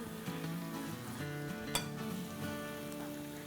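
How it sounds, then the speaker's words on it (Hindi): Kebabs sizzle in frying masala inside a karahi, a soft continuous hiss with quiet stirring and one sharp metallic clink partway through. "देखें कैसी ज़बरदस्त सी हमारी कबाब फ्राई हो रही है।"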